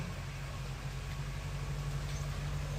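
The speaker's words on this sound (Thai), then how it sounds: "เสียงรถไถมาแล้วเพื่อน" A tractor engine runs steadily at a roadside near a resort where road work is under way, a low rumbling drone holding at constant level throughout without clear approach.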